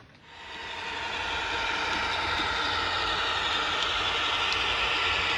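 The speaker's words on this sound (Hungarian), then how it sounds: "A mozdony futása szép, egyenletes, szitálásnak, rángatásnak nyoma sincs." A PIKO MÁV M44 071 "BoBo" model locomotive runs along a track with a smooth, continuous mechanical whir that swells in the first moment, then holds steady and even.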